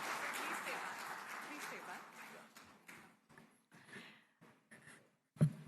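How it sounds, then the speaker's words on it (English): An audience at a business conclave in Coimbatore claps for a guest of honor. The applause is dense and fairly loud at first, then thins into scattered claps and fades, and a voice comes in over it. "A bigger round of applause for our guest of honor."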